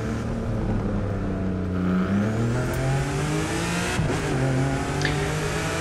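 A Lamborghini Huracán's engine accelerates in The Crew 2 racing game, rising pitch climbing through several gear changes, loud and steady with tire noise beneath.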